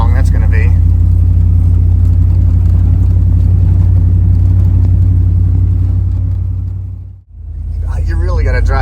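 An LS-swapped OBS truck with a carburetor runs cold while being driven, giving a loud, steady low engine drone from inside the cab that cuts off abruptly near the end.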